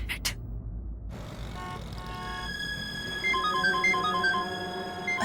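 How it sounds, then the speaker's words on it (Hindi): A phone rings with an incoming call in a Hindi TV drama: after a brief hush, a repeating electronic melody chimes clearly over faint background rumble, with the tones becoming louder and busier toward the end. "अशोक का कॉल"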